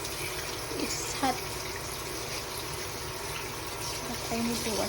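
Tap water runs steadily into a sink while raw chicken is washed, a constant close hiss and splash with small clinks of handling, no voices heard.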